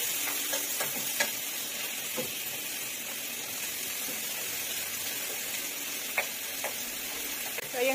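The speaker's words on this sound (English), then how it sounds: "Stir fry." Pork being stir-fried in a pan gives a steady, even sizzle and hiss, with occasional clinks and scrapes of stirring over it and no talking.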